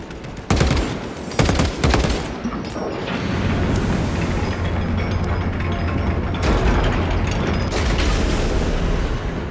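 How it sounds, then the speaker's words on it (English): Weapon reload and combat in the video game Warhammer 40000: Space Marine 2: a burst of loud gunfire and mechanical clanks, then a steady battle din with scattered shots and metallic handling noises throughout. "I have to reload."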